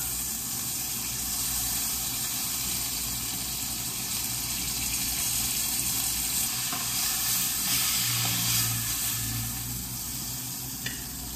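Steak searing on a hot pan, a loud, dense, continuous sizzle with crackling spatter that swells slightly near the end, heard alone without talk.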